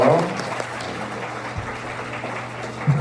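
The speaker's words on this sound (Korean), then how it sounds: "박수 부탁드릴게요" Applause from a wedding ceremony crowd rises and continues as a dense patter of clapping, with a voice briefly audible at the start.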